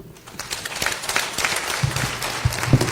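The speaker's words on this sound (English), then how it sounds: "Another round of applause for them" Audience clapping for a panel discussion at a women's forum, a dense patter of many hands with sharper individual claps standing out, moderately loud and steady with no speech over it.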